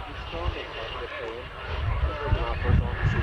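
A target-towing aircraft, cruising at 184 knots, flies a slow-speed display at the 1999 Ulster Airshow in Newtownards, its engine droning steadily and swelling slightly beneath continuous public-address commentary.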